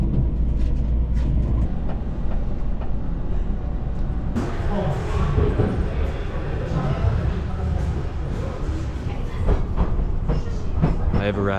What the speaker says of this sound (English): First time I'm taking a limited express train.